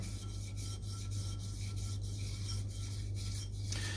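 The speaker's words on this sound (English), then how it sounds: "So just give it a good whisk so you don't have any lumps." Matcha tea being whisked briskly in a bowl with a bamboo chasen, a steady continuous rasping swish with rapid rhythmic strokes, close up and fairly loud, no voices.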